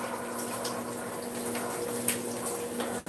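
Cold water runs from a kitchen tap to rinse a pan during breakfast cooking, a steady close hiss of flowing water with a few light clinks, and no talking.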